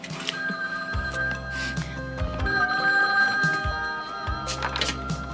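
An old-style telephone bell rings loudly in repeated bursts, with a pause between rings, in a diner setting.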